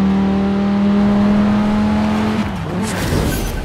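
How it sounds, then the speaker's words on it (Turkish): A car accelerating hard in Forza Horizon 4: a loud, sustained engine drone holds a steady pitch close up, then shifts and warbles as the car changes gear, with some tire noise near the end. "Baksana abi aracın kalkış hızına bak."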